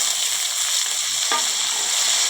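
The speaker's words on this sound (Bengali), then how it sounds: "দেখো সবজিগুলো হালকা ভাজা করে নিলাম বন্ধুরা একদম" Potato, flat beans and eggplant fry in a pan, giving a continuous close hiss of sizzling oil with one brief stirring clink partway through, and no voices.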